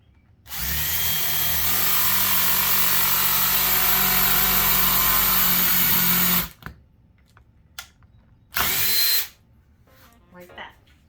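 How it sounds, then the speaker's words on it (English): Power drill boring holes in a wooden noodle board stove cover: a loud, steady whirring run of about six seconds that stops abruptly, then a second short burst after a few quiet knocks and handling sounds. "I'll be using this drill to drill my holes."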